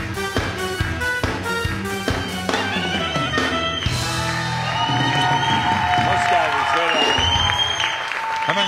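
Studio audience applause on the Turkish game show Çarkıfelek: sustained, dense clapping with scattered cheers and voices, over loud music throughout.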